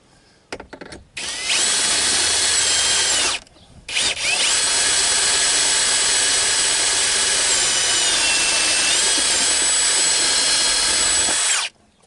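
A power drill reams out a hole for a bolt while a Morse-type boat steering cable and helm are being replaced, running loud and close in two bursts, a short one and then a long steady grind of about eight seconds.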